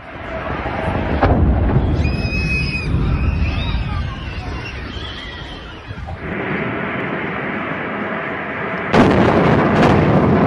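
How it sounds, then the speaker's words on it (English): A deep, rumbling roar of a massive gas station explosion in Novosibirsk, with crackling bursts and muffled voices mixed in, continuing for several seconds before another loud surge. "a massive explosion occurred at a gas station in Novosibirsk"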